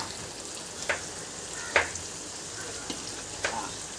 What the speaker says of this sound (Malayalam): എണ്ണ ചൂടായ ശേഷം സവോള, കുനുകുന അരിഞ്ഞ സവോള വഴട്ടാൻ വേണ്ടി ഇട്ട് കൊടുക്കുക.